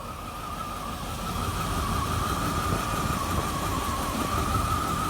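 A Rover SD1 engine with new carburetors idles close by, a continuous low rumble with a faint whine on top, holding constant throughout without voices.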